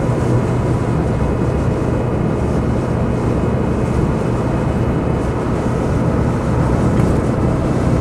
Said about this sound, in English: They're certainly the sort of half off-road, half on-road tyres, which do give a little bit of whine, but not excessive.